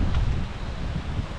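Steady wind gusts and buffets the microphone in Batangas ahead of a typhoon, a continuous low rumble with no voices.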